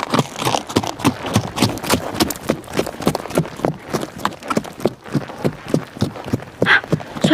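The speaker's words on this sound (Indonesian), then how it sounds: "Wah, ternyata itu adalah kereta kuda" Steady clip-clop of a horse-drawn carriage's hooves trotting on a hard surface, close and rhythmic, continuing throughout with no voices.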